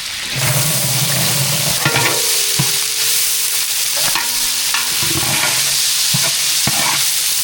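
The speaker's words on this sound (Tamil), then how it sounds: "பச்சை மிளகாய் நல்லா வதங்கிடுச்சு அதை கூட வெங்காயம் சேர்த்துக்கலாம்" Green chillies and onion sauté in hot oil for veg biryani, giving a loud, continuous sizzle broken by the scrape and clatter of a spoon stirring the pan.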